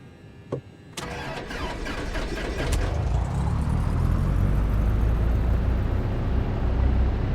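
Simulated aircraft engine spooling up through a full startup in a flight simulator, opening with brief clicks and a whine before swelling into a steady, loud, dense roar that holds to the end, with no talking.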